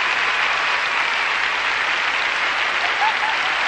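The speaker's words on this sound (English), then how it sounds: "have made this audience stand and applaud." Audience at an ice skating competition rising in a standing ovation, a dense sustained wash of applause filling the arena at even loudness from start to finish.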